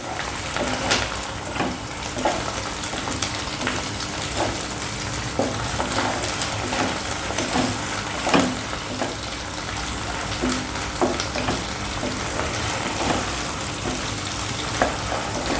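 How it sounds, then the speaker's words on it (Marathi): Ginger garlic paste and onion sautéing in hot oil for chicken kheema, a steady close sizzle and crackle with occasional scrapes and stirring knocks, constant throughout with no talk. "आता आपण ह्याच्यामध्ये आलं लसूण पेस्ट घालूया, म्हणजे त्याचा कच्चेपणा जाईल. त्याचा कच्चेपणा जाईपर्यंत आपण थोडंसं परतून घेऊया."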